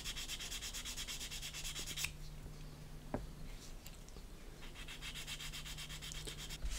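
Steady, fine abrasive rubbing of a fine sanding sponge on a 1/32 scale plastic model aircraft part, in repeated strokes, pausing briefly midway with a couple of light taps before resuming, close and fairly quiet.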